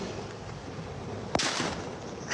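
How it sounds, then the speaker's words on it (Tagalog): A firecracker goes off once on a beach: a single sharp, close crack with a short rumbling tail, over a steady background hiss. "Ate Nap, Sir MJ, paputok ako ulit."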